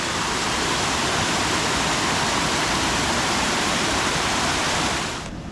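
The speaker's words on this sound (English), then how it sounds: "This is just an absolute oasis with beautiful falls and everything." Steady, dense roar of falling water close by, broadband and continuous, easing slightly at the very end.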